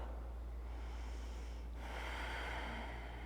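A deep breath drawn in through the nose during a yoga session, a single airy, hissing inhale that swells and then eases out, close and clear over a steady low background hum.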